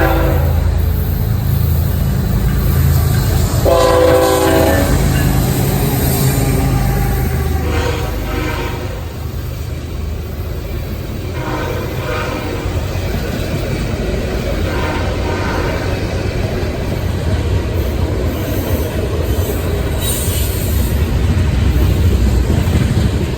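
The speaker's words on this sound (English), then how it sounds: "This first freight train was led by two Canadian National ES-44 AC diesel locomotives carrying oil cars with a helper at the end of the train." A freight train of oil cars, led by two Canadian National ES44AC diesel locomotives with a helper at the rear, rolls past in a steady, heavy rumble, with brief tonal horn-like swells over the continuous wheel and engine noise.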